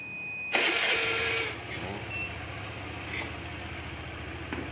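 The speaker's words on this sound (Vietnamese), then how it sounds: "Rồi ok, nổ máy tiếp." A 2010 Honda Air Blade scooter with a high-voltage ignition fault cranks and fires into a steady, close idle, its buzzing starter giving way to an even low engine rumble.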